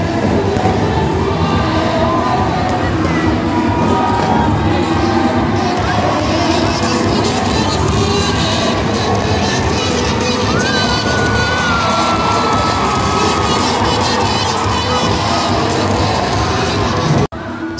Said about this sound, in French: C'est des cris de joie